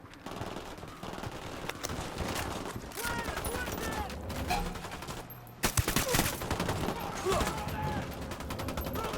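Sustained automatic gunfire in Ghost Recon: Wildlands, dense overlapping bursts with a sharp loud crack midway, sounding as a continuous firefight with voices under the shooting.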